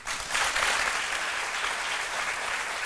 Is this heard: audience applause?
yes